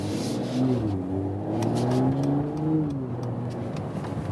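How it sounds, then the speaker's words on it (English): Idling exhaust note from a performance estate car, one of an Audi A6 Avant, BMW 5-Series Touring, Mercedes E-Class Estate or Volvo V90, in comfort mode: a steady low burble with gentle swells in pitch, close and continuous. "you already hear some exhaust note, of course"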